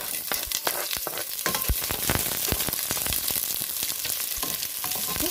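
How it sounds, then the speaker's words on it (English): Garlic and onion sautéing in hot oil in a pan or casserole for Filipino beef kaldereta, a dense, crackling sizzle with rapid pops and clicks, steady and up close, with no voices. "In the heated pan or casserole with the oil, now let's go to saute our garlic"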